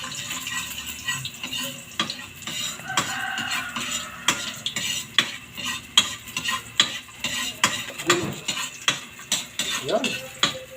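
Garlic sizzles in hot oil in a pan for pork adobo while a utensil scrapes and stirs it, giving close, rhythmic clinks and scrapes over a steady frying hiss, with no talking.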